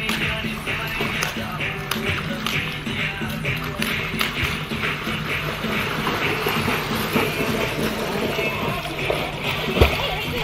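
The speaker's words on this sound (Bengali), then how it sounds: "আমার ভাই আবার সাঁতার কেটে দেখাচ্ছে" Swimmers splashing in a swimming pool, with steady close splashes and sloshing throughout and voices talking over the water.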